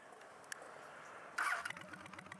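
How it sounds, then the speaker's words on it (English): A 2002 Honda Shadow motorcycle engine catches after a brief starter crank, then settles into a low, steady, rhythmic idle thump, close by with no voices. "Well, it starts."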